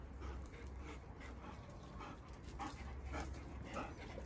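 A German Shepherd dog whines and whimpers softly with light panting, faint and close, in a quiet room in the early morning.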